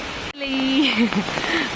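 Rain falls steadily in a continuous broad hiss, with a voice speaking over it.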